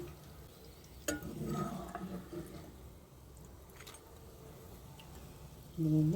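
Raw banana pieces dry-roasting in a pan for a spicy powder, with quiet scraping stirs and occasional light clinks of a utensil against the pan at a low volume.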